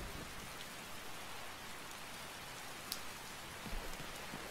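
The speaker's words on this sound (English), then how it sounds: "it is still fucking raining" Steady rain pours in Skyrim, a dense, even hiss of falling water with a couple of faint distant rumbles, heard alone without talk.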